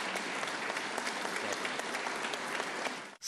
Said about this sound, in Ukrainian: І зустрічали, і проводжали Володимира Зеленського оваціями.